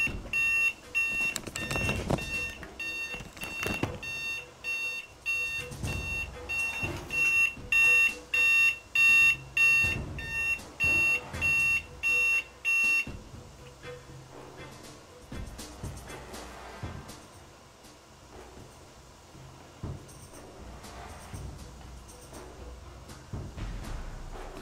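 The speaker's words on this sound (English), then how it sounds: "brand new alarm clock, did not realize that it was set to go off at 12 o'clock midnight" A brand-new alarm clock beeps in a rapid, steady pulsing pattern, loud and close, for about half the span before stopping, with scattered thumps and brief speech around it.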